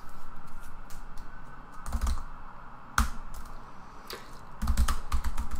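Terminal commands typed on a computer keyboard, with bursts of clicky keystrokes in quick runs and brief pauses, close and moderately loud against a faint background.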